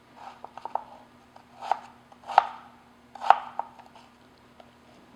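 A knife slicing a Granny Smith apple into quarter-inch slices on a cutting board, several crisp cuts and three louder thunks against the board, close and clear with no talk.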